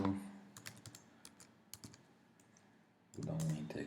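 A computer keyboard clatters with quick, irregular keystrokes, soft and close, ending with a heavier press of the enter key, while a person talks quietly in between.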